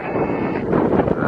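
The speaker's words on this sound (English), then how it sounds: "it's getting a bit windy." Wind buffets the microphone with a continuous low, rumbling roar that swells slightly toward the end, with no voices.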